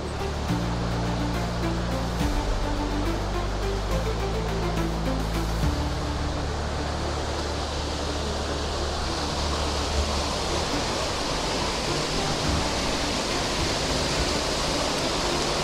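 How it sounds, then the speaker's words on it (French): Steady rushing water from a stream at Huelgoat in Brittany, a continuous close hiss with a low engine-like hum in the first few seconds. "on voit l'eau qui coule"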